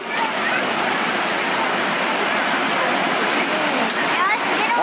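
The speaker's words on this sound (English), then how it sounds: "This river was completely overwhelmed by a massive wave of logs and debris rushing downstream with incredible force." A flooded river carries logs and debris downstream, its rushing water roaring loud and continuous from start to finish, with a steady broadband churn and no pauses.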